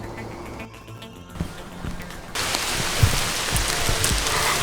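Steady rain hisses loudly outdoors during a long-distance hike, rising suddenly partway through into a dense, even wash with a few nearby taps and knocks.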